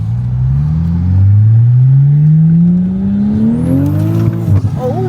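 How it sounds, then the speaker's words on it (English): A Toyota A90 Supra engine revs loudly and climbs steadily in pitch as the rear end fishtails, then cuts off abruptly with a brief chirp near the end, heard close from inside the car. "Hey, the back end spun out, bro. We're fishtailing."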